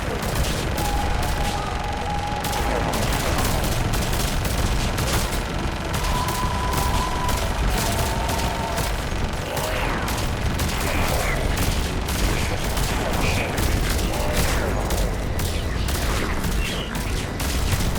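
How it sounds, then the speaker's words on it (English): Enemies keep up relentless gunfire in the video game Mass Effect 3 on hardcore difficulty, a loud, unbroken barrage of overlapping shots with no pauses throughout. "They are literally constantly shooting."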